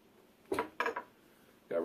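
A 10-inch stainless steel Bowie survival knife made by United Cutlery, with a hollow handle, saw back and button compass, is handled, giving a few quiet metallic clinks and taps with pauses in between, heard close up.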